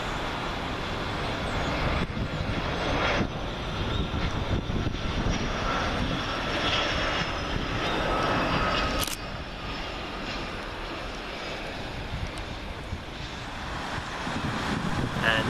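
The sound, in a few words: Dassault Falcon 50EX jet arriving at Manchester Airport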